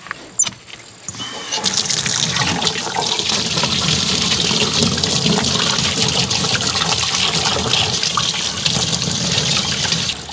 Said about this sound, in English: And then give them a rinse.